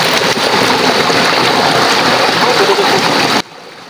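Stream water rushes and splashes loudly and continuously in a rural creek where snails are gathered. It drops away abruptly near the end, and no speech is audible.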